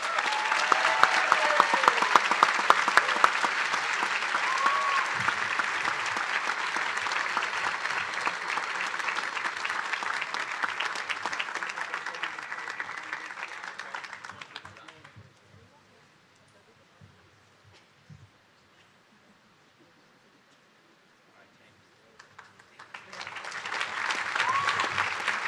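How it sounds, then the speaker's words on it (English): Audience applause fills a commencement prize night hall, a dense steady clapping that fades out midway, leaves a near-silent pause, then rises again loudly near the end. "Please join me in applauding this group."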